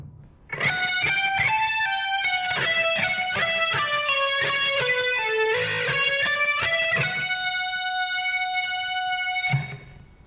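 Distorted electric guitar plays a sustained lead phrase from a solo, notes bending and sliding smoothly for about nine seconds, loud and alone.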